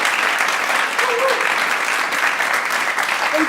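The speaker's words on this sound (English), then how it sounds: "Big applause for Bernie Sherlock" Sustained applause from a crowd, steady clapping at a constant level throughout.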